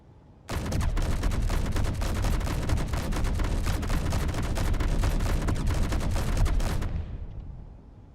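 Autocannons on a fighter ship in a space combat video game fire in a long, loud continuous burst of rapid rattling shots, lasting about six seconds before cutting off into a fading rumble.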